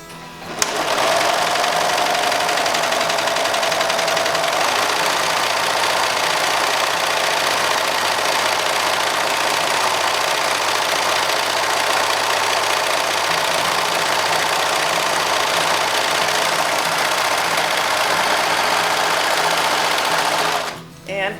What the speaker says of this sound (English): we will raise the presser foot and start serging